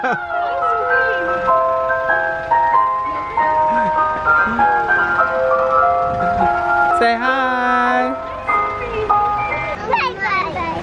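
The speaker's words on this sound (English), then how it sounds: "It's an ice cream truck." An ice cream truck's jingle plays loud and close as a bright repeating tune, with children's excited voices and other chatter mixing in over the music.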